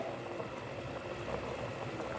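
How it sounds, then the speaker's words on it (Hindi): A pot of water at a full rolling boil, ready for rice, bubbles steadily and softly up close, a constant gentle gurgling with no voices. "फुल बॉयल आ चुका है पानी पे।"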